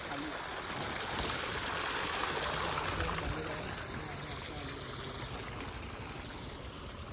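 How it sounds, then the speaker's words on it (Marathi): A small waterfall in a Konkan village pours steadily, a dense, even rush of water holding at the same level from start to finish. "हे धबधबा दाखव छोटा."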